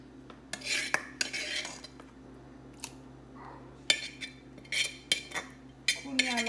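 A utensil stirs chopped onions into a salad in a bowl, giving scattered clinks and scraping strokes in irregular bursts, close and fairly quiet.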